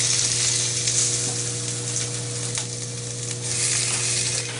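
Sirloin steak and peppers sizzling in a pan, a steady close hiss of frying that holds throughout with faint stirring noises.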